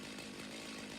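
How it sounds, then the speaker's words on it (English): A steady, buzzing chainsaw drone from a video game's sound effects runs continuously and fairly loud, with no voices over it. "The chainsaw is a good example of why you should have multiple versions of one sound"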